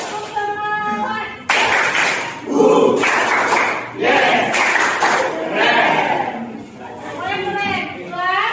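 A class in an Indonesian school performs the "tepuk semangat" routine, sharp patterned group clapping in bursts alternating with children's chanting and a leading teacher's voice, loud and close.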